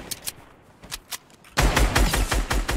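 Rapid gunfire in Fortnite, a few scattered distant shots at first, then a loud, sustained burst of dense automatic fire that runs to the end without a break.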